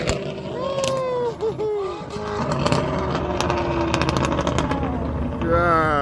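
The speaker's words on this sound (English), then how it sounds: "Ferrari about to hit it." A Ferrari accelerating hard at a European car show, its engine note climbing through revs close by, with crowd noise and voices around it.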